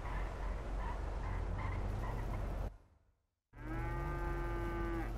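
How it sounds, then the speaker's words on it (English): A cow moos loudly and close by, first a long sustained low call, then a pause of silence, then another drawn-out, harmonic-rich moo. "Goddamn cow, shut up."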